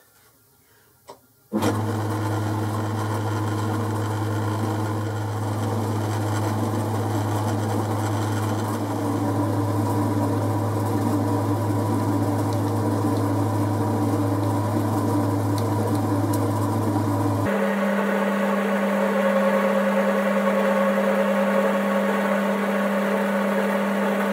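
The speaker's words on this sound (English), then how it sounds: "I've just fitted my knurling tool I want to put a knurl just on the end" A metal lathe motor starts and runs with a steady loud hum and grinding as a knurling tool cuts a knurl on the end of a workpiece, then shifts pitch partway through; no speech.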